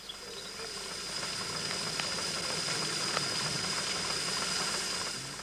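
Model agricultural steam engines hiss and chuff at work, giving a continuous, fairly loud steam hiss with faint mechanical ticking throughout and no speech.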